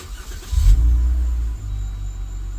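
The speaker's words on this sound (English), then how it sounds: "start the engine" A Jeep Wrangler set up for flat towing starts up: a short crank burst, then the engine settles into a steady low idle rumble, close and loud, with no talk.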